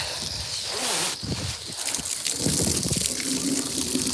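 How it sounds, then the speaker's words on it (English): Water gushes steadily from a hose at a horse barn, flushing out stale water before the horses are watered, a close continuous splashing flow with no talk. "So I let the hose run a little bit to get any older water out."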